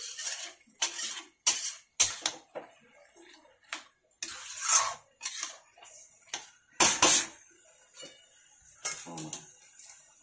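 Metal lids and pans clatter and clink on a kitchen stove as a pot of Bengali cabbage ghonto is covered, with scattered close clanks and scrapes between quieter moments.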